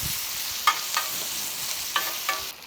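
Onions fry in pork chop juices and burnt butter on a coal shovel, with a soft continuous sizzle broken by a few light scraping stirs.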